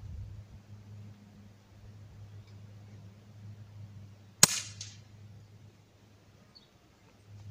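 A BB gun fires once at long range, a single sharp crack standing out against a low steady background hum, followed by a faint brief echo.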